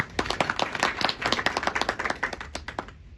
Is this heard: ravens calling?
no